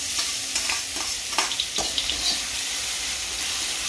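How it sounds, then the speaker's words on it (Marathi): Ground green chilli and garlic masala paste sizzles in hot oil in a kadai, with irregular scraping stirs of a spoon against the pan over a continuous frying hiss, heard close with no talking. "तर बघा मस्तपैकी आपलं वाटणही परतलेलं आहे"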